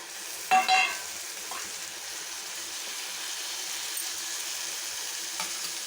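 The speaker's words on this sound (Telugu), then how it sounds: "ఈ తరిగి పెట్టుకున్నటువంటి టమాటాలు కూడా వేసేద్దాం" Chopped tomatoes drop into a hot frying pan with a brief burst of sizzle and clatter, then a steady, moderate frying hiss continues alone for several seconds.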